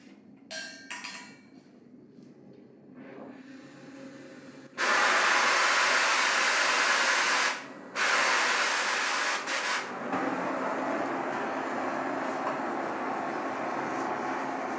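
An oxyacetylene cutting torch hisses with its heating oxygen opened, a loud, broad, steady roar that swells in after a few quiet clicks, dips briefly, then holds on.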